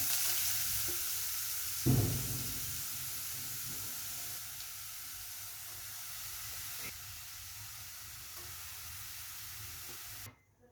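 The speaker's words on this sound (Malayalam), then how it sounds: "ഇത് നമ്മൾ അരിഞ്ഞു വെച്ചിരിക്കുന്ന ബീറ്റ്റൂട്ട് ഇട്ട് കൊടുക്കാം." Chopped beetroot stir-fries over a low flame in a pan with mustard seeds and cumin, giving a faint, steady hiss and sizzle with a soft thump early on, and no voices.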